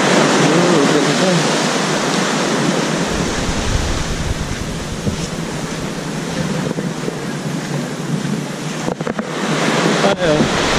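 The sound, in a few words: sea waves crashing on shore, Krabi Thailand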